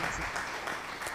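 Short burst of applause from a livestream donation alert, a dense crackle of clapping lasting about a second at moderate level.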